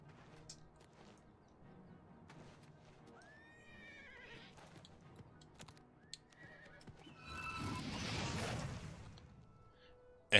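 In the video game Oblivion Remastered, a horse whinnies several times in sharp rising calls between steady clip-clop hoofbeats, then a louder rushing burst swells near the end.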